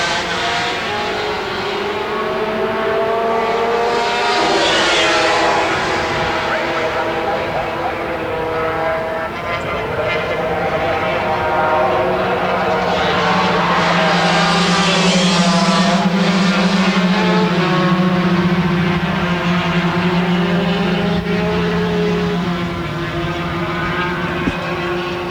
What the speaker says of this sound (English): Dave Moore, Martin Renfrey, virtually 5 abreast under the bridge that time, the fastest part of the circuit, and they'd be peeling off in excess of 200 kilometres an hour